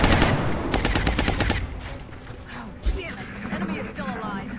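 Rapid bursts of gunfire from the turn-based strategy game XCOM Long War rattle off in quick succession, fading into scattered shots and effects while a voice talks over the action.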